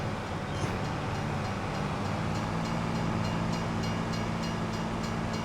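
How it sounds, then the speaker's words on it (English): A train rolls past in a farming and forestry video game, a steady, dense rumble with a low droning hum that holds evenly throughout, with no talking. "Oh, the train, of course."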